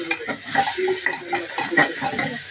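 Spoon stirring pav bhaji masala and turmeric through ingredients in a pan, a steady scraping and shuffling with a light sizzle underneath, close and continuous with no speech.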